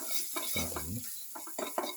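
A spoon stirs salt and chili powder into a pumpkin yogurt raita, making close, uneven scraping and clinking strokes against the bowl, with one longer smeared scrape in the middle.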